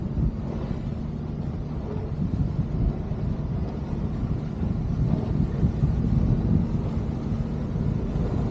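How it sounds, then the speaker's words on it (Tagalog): Strong wind buffeting the microphone with a low, rumbling roar, continuous and loud with gusty swells, no voices. "Kasi malakas ang hangin."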